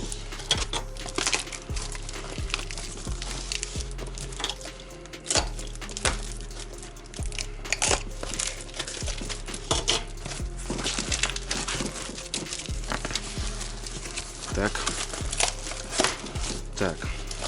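Tape-sealed cardboard box being opened, with steady crinkling, rustling and tearing of tape and cardboard close up, continuous and fairly quiet throughout, with no talking over it.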